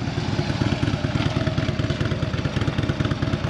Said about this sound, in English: So up next is David on a Harley Davidson.